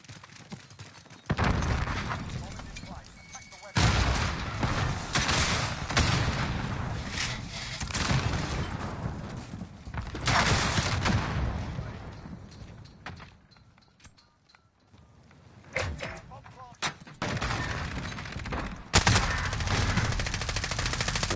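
Rapid bursts of automatic gunfire in Call of Duty: Modern Warfare (2019) on PS5, loud and close, coming in several sustained volleys separated by brief lulls, with no talking over the shots.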